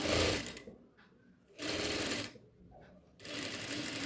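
An electric sewing machine stitches two layers of cloth for a yoke nighty in bursts of rapid, whirring needle strokes, three runs separated by short pauses, close and clear with no talk.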